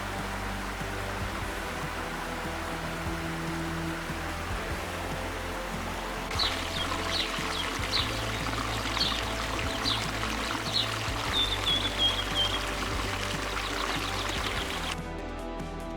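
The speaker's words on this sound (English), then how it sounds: "one of Yosemite's legendary cascades, crashing down from heights that seem unreal" Yosemite waterfall crashing down from great height, a steady broadband roar of falling water throughout, with faint high bird calls joining partway and no voices.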